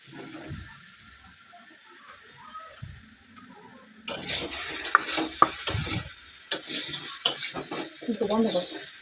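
A spoon scrapes and stirs a thick spiced mixture stir-frying in a pan, with soft sizzling and clicking strokes that grow louder and busier in the second half.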